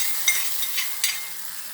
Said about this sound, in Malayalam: ഇപ്പോൾ നമ്മൾ കടുകൊക്കെ വറുത്ത് ഇതിലേക്ക് ഒഴിക്കുകയാണ്